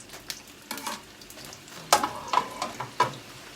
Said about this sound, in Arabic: احطها في الزيت.